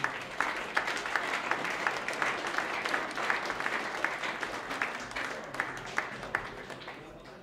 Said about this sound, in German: herzlichen Applaus für ihn